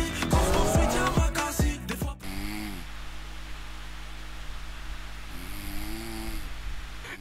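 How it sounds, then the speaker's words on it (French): A man asleep snoring, deep rasping breaths repeated slowly, a loud cluster of sharp sounds at the start then two long, fairly quiet snore cycles. "le mec il est en train de ronfler"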